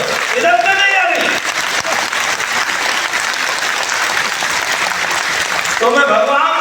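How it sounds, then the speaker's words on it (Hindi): Loud, sustained applause from a crowd gathered for a spiritual talk at a Brahma Kumaris centre in Gurgaon, with dense clapping filling nearly the whole stretch and a voice speaking briefly at the start and end. "जब संभ्रम हो जाता ताली जोर से बजाओ"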